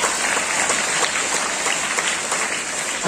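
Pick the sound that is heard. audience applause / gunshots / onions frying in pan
audience applause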